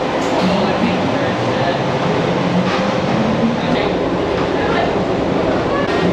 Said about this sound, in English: So this is it, the monorail.